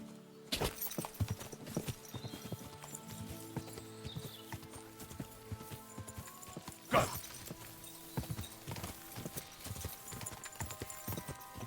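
Horse hooves clip-clop steadily in Kingdom Come: Deliverance 2, a repeated close walking rhythm of thuds with a brief whinny-like burst midway and no speech.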